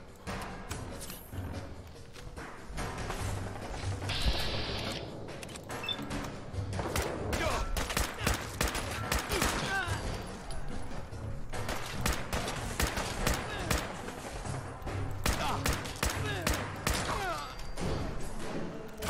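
Gunfire in Fallout 4 at point-blank range: repeated sharp shots and impacts in irregular bursts amid thuds and clatter of combat, with a voice heard intermittently.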